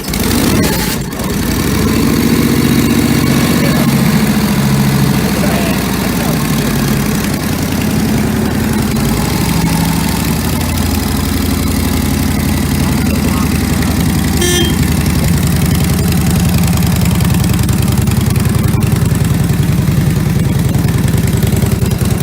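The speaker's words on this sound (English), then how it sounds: "That's a stroker, high compression, race model." Vintage Harley-Davidson stroker race engine with high compression idling loud and close after a kickstart, a constant rough lumpy rumble throughout, with a voice speaking over it.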